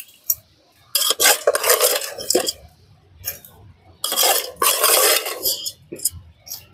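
Crabs going into tamarind water in a cooking pot in a village kitchen: a couple of bursts of splashing, clattering and scraping against the pot, close up, separated by quieter pauses.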